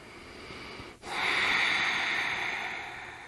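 A slow, audible breath drawn close to the microphone during a prenatal yoga squat pose, rising after a brief pause into a long airy exhale that gradually fades.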